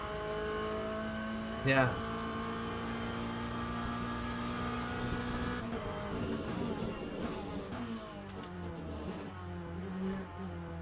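An LM GT3 race car in the Le Mans Ultimate sim drones steadily through a corner, its engine note holding then shifting as the throttle is touched, with a brief spike early on and someone talking over it.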